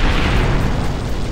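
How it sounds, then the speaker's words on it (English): A missile explodes against Godzilla in Animal Revolt Battle Simulator, a loud, dense booming roar that rumbles steadily through a brief burst. "Godzilla's become too powerful. We gotta missile him."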